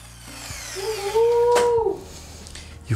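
An electric drill whirs into a wall for a short burst, rising in pitch and then winding down, with a few knocks and handling clatter around it.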